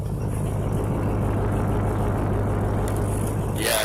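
A 2012 Ford F-150 Raptor's V8 idles with a deep, steady exhaust rumble, close and unbroken, ending with a brief scrape.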